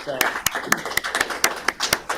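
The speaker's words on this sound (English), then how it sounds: "round of applause" An audience claps at a Montgomery County Board of Commissioners meeting, with sparse, evenly spaced claps that sound like a small crowd. A speaker talks over the clapping throughout.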